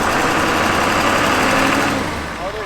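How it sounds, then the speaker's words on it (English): A 7.3 diesel engine in a 4x4 van with an exhaust leak idles steadily up close with a rough, rumbling drone that eases off slightly near the end. "there's still that stupid exhaust leak"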